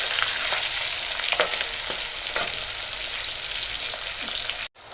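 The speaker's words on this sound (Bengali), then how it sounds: "এবার বন্ধু, আমার আলুগুলো ভাজা হয়ে গেছে।" Potatoes coated with turmeric fry in a kadai with a steady, close crackling sizzle and occasional stirring scrapes, then a sudden brief break near the end.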